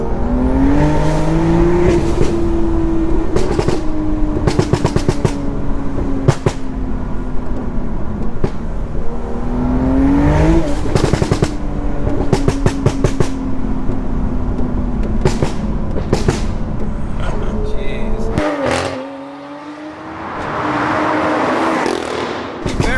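A 625bhp big-turbo BMW M2 revving in flame mode, engine rising and falling in repeated loud pulls punctuated by sharp exhaust pops and crackles, with a brief lull near the end.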